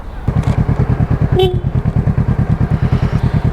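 A motorcycle rides along with a steady, loud, close engine putter in a fast even pulse, a brief higher tone briefly cutting through the running engine.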